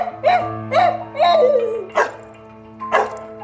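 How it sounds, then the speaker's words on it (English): A pet dog barks nearby in a drama film scene: four or five sharp, whiny barks come in an uneven rhythm, with short pauses between them. "He discovered he could understand his pet dog's barks"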